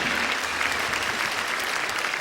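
Audience applause following a musical performance at a peace concert, a dense, even roar of many hands clapping without pause across the short stretch.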